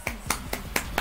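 Five sharp, evenly spaced claps in a Fall Guys game, close and crisp at a brisk steady rhythm, with no talk over them.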